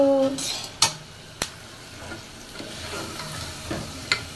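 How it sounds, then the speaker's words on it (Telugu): Peanuts being dry-roasted and stirred in a pan for chutney; a soft, continuous frying hiss is broken by sharp metallic clinks and scrapes of a utensil against the pan, several spaced irregularly across the stretch. "పల్లీలు కూడా నేను బాగా రోస్ట్ చేస్తున్నా."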